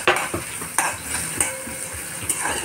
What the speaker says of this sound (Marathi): कांदा छान हलवून घ्यायचा छान रंग येऊ द्यायचा कांद्याला